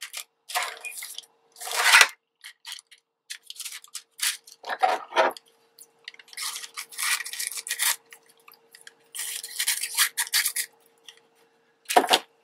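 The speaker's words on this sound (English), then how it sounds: "So then I just take my trimmer." A paper trimmer slices through a sheet laminated with wax paper and glue stick, giving a run of close, dry rasping cuts in separate bursts with brief pauses between them and no talk.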